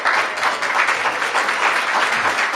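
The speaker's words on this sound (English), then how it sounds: "that's worth applauding" Sustained audience applause fills the room at an outdoor-style public bill signing event, a dense, steady clatter of many hands clapping at close range with no voices over it.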